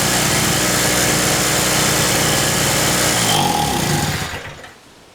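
King 950 W portable generator engine running rough, a loud, close buzzing small-engine drone with uneven sputtering that cuts out and fades into silence near the end.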